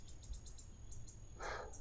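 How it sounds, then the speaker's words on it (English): Birds call outdoors in Dundas Valley, Ontario on a summer hike: a series of short, evenly spaced high chirps in the distance, followed by a louder, broader burst of bird sound near the end. "vocalizing birds here."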